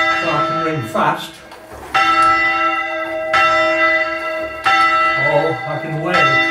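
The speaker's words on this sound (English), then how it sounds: "Or I can wait for another bell to ring and then have all the changes." A church bell in a historic North Wales church rings in loud, resonant strikes with long ringing tails, several clear strokes spaced a second or so apart.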